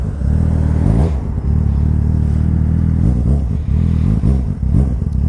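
A sport motorcycle of about 75 horsepower with a Two Brothers exhaust revs loudly at close range in repeated throttle blips, its engine note climbing and falling with rough, clattering bursts between.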